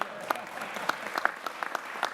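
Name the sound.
audience applause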